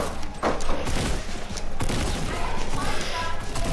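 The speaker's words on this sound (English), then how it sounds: "I'm rushing him with the shotgun right now" Shotgun blasts in Fortnite Battle Royale while rushing an opponent, several heavy shots amid busy gameplay noise with a voice talking briefly.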